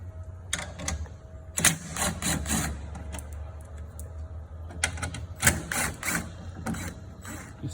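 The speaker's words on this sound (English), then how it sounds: "We're going to remove those 4 bolts." Bolts being removed from the vacuum mounting plate on a Tennant T7 Nobles SS rider scrubber, heard as repeated quick ratcheting and mechanical clicking bursts over a steady low machine hum.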